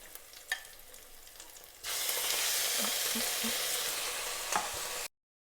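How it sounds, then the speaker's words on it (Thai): Pork dropped into a hot pan for a simple mixed vegetable stir-fry, breaking into a loud, steady sizzle after a few quiet seconds, with faint stirring clinks before it cuts off abruptly. "เอาหมูใส่เลยจ้ะ"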